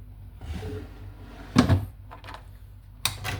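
A drawer on a newly assembled medium-size office desk slides and knocks shut, two short clunks with faint handling noise in a quiet room.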